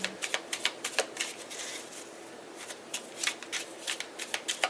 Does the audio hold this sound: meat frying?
no